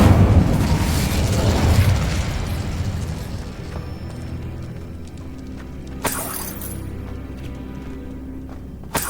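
An Incendio fire spell in Hogwarts Legacy bursts in a loud, roaring blaze that slowly fades into a sustained rush, then sharp crackling bursts flare up near the end, with no voices.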